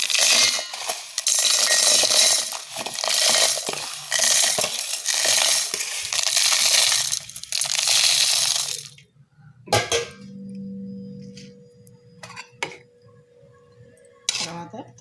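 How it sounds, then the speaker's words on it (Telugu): A mixer grinder whirs loudly in several bursts, grinding cooled, roasted dry ingredients for a rice bran spice powder with a gritty rattle, then stops, followed by quieter clinks and kitchen handling sounds. "చల్లారిన తర్వాత మిక్సీ జార్లో వేసుకొని పొడి చేసుకోవాలి"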